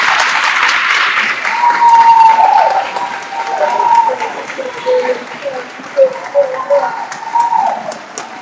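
Graduation ceremony audience clapping for the parents, a broad sustained wash of applause that swells and ebbs across the hall, with a voice speaking over it.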